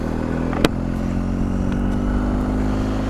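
Steady engine drone of a BMW R1250 GS Adventure motorcycle being ridden on twisty roads, close and continuous with a brief knock early on and no talking.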